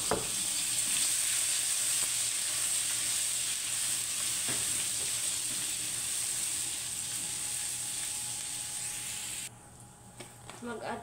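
Ginger sizzles in melted butter in a pan, a steady bright frying hiss that runs for several seconds with a few stirring knocks, then drops away near the end.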